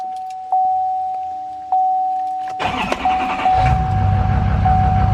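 A Chevrolet L5P diesel pickup truck with a misfire cranks and fires up after a chiming warning tone and a couple of clicks, then settles into a loud, rough, uneven idle that continues to the end.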